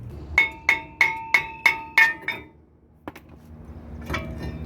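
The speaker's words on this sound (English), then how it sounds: "Need a little help from the hammer." Six sharp, evenly spaced metallic hammer strikes ring out against a Ford F150 brake rotor during a wheel bearing job, each clang decaying with a bell-like tone, then a lone knock and a softer clatter as the rotor comes loose.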